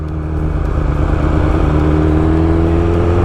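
A tuned 2020 BMW S1000RR motorcycle engine pulls steadily under part throttle, its loud continuous drone rising slowly in pitch, heard up close from the rider's position with no talking.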